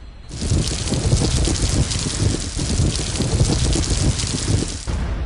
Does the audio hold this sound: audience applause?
no